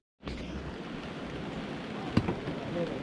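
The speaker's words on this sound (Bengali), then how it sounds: "আবার বৃষ্টি শুরু হলো।" Heavy overnight rain in Kolkata, a steady broadband hiss that starts abruptly and continues evenly, with one brief louder knock partway through.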